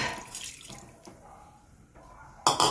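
Water runs from a tap and splashes into a cooking pot for boiling rice for payasam, with a louder, brighter gush near the end.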